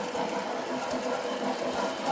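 A small motor whirs steadily with faint clicking and rattling as an MP15 DC model locomotive runs along track, continuous and fairly close with no voices.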